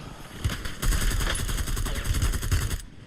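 Rapid automatic gunfire in a video game, a dense stream of shots rattling for about two seconds, loud and close, then cutting off abruptly.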